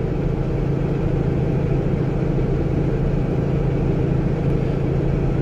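A Cummins diesel truck engine cruises at about 1600 RPM in ninth gear on the freeway, a steady low drone with road rumble, unbroken and even throughout.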